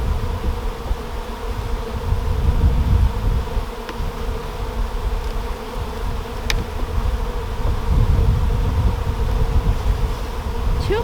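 Honeybees buzz steadily through an opened hive during a spring inspection, a dense close drone that holds for the whole stretch with a few sharper passes near the microphone and no talking.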